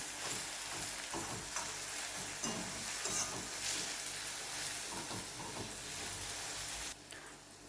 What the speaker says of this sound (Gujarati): ડુંગળી આપણી ટ્રાન્સપરન્ટ થાય ત્યાં સુધી એને આપણે શેકવાનું છે